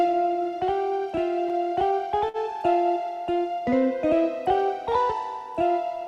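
A keyboard plays a melody in which every note gets a quick grace-note flip, giving a steady, busy stream of short ornamented notes with clear, bright attacks and nothing else around them.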